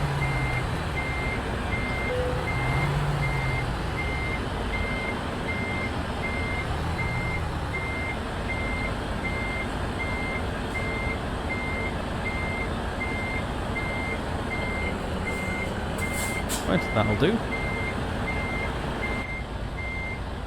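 A truck in Euro Truck Simulator 2 reverses with a steady, evenly spaced backup beeper pulsing over a constant engine drone, with someone speaking briefly near the end.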